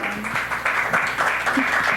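Audience applause at a live comedy show, a steady wash of clapping from a crowd that fills the whole moment without a break.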